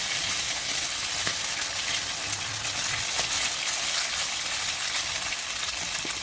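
Sliced eggplant sizzling in a hot pan over lowered heat, a dense, steady crackle of frying oil with small pops scattered throughout and no talking.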